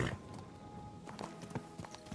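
Horse hooves clip-clop at a slow walk in Kingdom Come: Deliverance 2, a few soft, irregular thuds starting midway over a steady low ambient hum, fairly close and moderately quiet.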